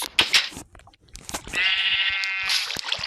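Several sheep bleat close by in short, loud cries, one long wavering bleat standing out between rustles and knocks.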